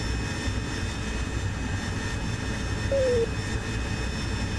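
An AV-8B Harrier jet engine hovering in DCS World, a steady loud turbine roar with a constant whine, sustained evenly throughout without pause.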